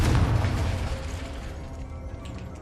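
A Confringo fire spell explodes in Hogwarts Legacy with a loud, close burst that booms at once and then fades out over a couple of seconds.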